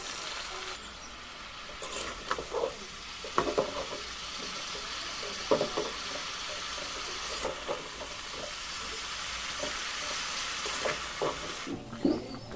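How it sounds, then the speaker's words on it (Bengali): Jaggery is stirred into a sweet-sour mango pickle in a small wok, a steady close sizzle and hiss with intermittent scraping of the spoon against the pan. "এই যে উল্টা পাল্টে আমি গুড়টাকে কিন্তু বেশ মিশিয়ে নিয়েছি।"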